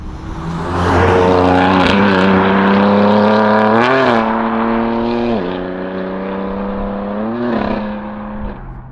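A BMW M3 Touring pulls away under hard acceleration, its engine note rising loud and close through the gears, with short dips at each shift and no talking.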